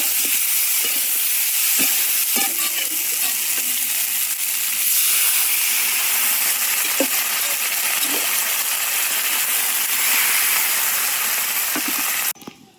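A covered pot of drumstick, bean and note greens curry boils hard on a high flame, giving a steady, close hiss with scattered faint clicks and pops throughout, cut off sharply at the end.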